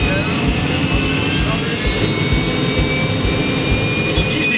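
Enstrom 480B helicopter turbine running up on start, a steady loud broadband roar with a faint rising whine held throughout, no voices standing out above it.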